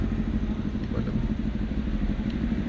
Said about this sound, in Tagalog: Ingay ng motor na yan. Big bike ba yun?